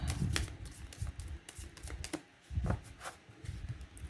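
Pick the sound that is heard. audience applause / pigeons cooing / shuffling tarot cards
shuffling tarot cards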